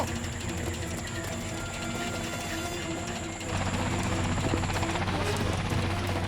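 Helicopter engine and rotors in a French action film, a steady mechanical whine and rhythmic chopping hum that grows louder and lower partway through as the machine powers up for takeoff.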